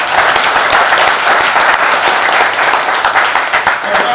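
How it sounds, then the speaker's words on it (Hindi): A large crowd at an outdoor government rally applauds loudly and steadily, dense clapping filling the whole stretch with no pause. "आप सबसे निवेदन करता हूं कि इतनी जोर से ताली बजाओ कि दिल्ली तक"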